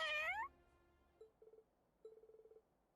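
A cat in Trails of Cold Steel 4 gives one clear meow at the start, then falls silent apart from two short bursts of rapid electronic beeping afterward.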